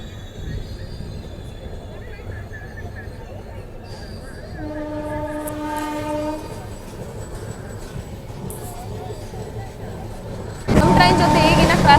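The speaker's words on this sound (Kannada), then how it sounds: "ಅದು ಮುಂಬೈ LTTಯಿಂದ ಕೊಯಮತ್ತೂರಿಗೆ ಹೋಗೋ ಕುರ್ಲಾ ಎಕ್ಸ್ಪ್ರೆಸ್ ಅಂತೇಳಿ." The Kurla Express rumbles past on the next track as the Mysuru–Kachiguda Express runs beside it. A low rail drone carries a sustained horn-like tone midway, then swells into a loud rush near the end while people talk.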